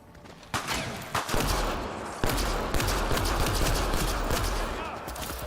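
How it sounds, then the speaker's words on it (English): Bursts of gunfire from a pistol in a video game crack out in quick clusters, several sharp shots followed by sustained rattling fire and a loud rumbling wash, with voices mixed in. "Let's test out the new pistol."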